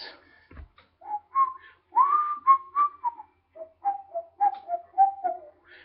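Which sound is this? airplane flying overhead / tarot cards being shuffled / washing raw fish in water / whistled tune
whistled tune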